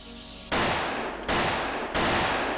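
Gunfire in the first-person shooter Unreal, three loud sustained bursts of rapid shots separated by short breaks.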